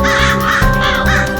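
Crows caw harshly and aggressively in quick, loud repeated calls, close by and filling the short moment with no talk.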